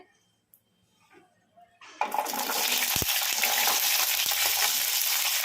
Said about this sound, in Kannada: ಈಗ ಇದಕ್ಕೆ ಹಸಿಮೆಣಸಿನ್ಕಾಯಿ ಹಾಕೋಣ ಕಡಾಯಿಗೆ